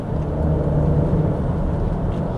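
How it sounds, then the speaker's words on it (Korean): Turbocharged engine of a Cadillac XT4 accelerating on a snowy road, a steady low rumble and whir heard from inside the cabin, continuous and moderately loud with no talking. "지금 가속할 때 이게 확실히 터보 엔진이라는 게 느껴지는 게, 순간적으로 이 터빈이 공기를 빨아들이는 소리가 꽤 자극적으로 들리네요."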